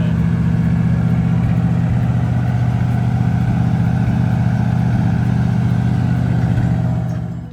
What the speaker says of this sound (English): Idle's a little high because it's cold.